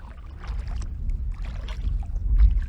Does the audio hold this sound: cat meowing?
no